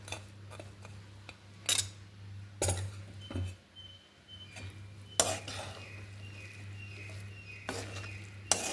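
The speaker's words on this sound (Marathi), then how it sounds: "हे छान असं परतून घ्यायचं. यामध्ये आता मी हा कोंडा घालून घेते गव्हाचा." Metal utensil scraping and clinking against a pan as wheat bran is stirred and sautéed, with sharp scattered clanks over a faint steady background hum and soft sizzle.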